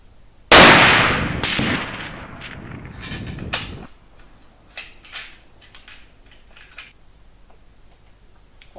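A single loud, close rifle shot from a Fabarm Iris rifle in .300 Winchester Magnum on a 100-metre range, a sharp blast with a long reverberating tail, followed by faint clicks and handling noises.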